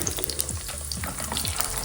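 Tempering spices and chana dal spluttering and sizzling in hot oil in a pan for temple-style lemon rice, a dense continuous crackle with sharp pops throughout, close and fairly loud, no voices.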